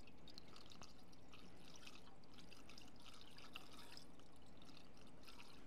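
Water draining out of an inboard boat engine during winterizing, a soft steady trickle with faint drips over a low constant background, quiet and without pause.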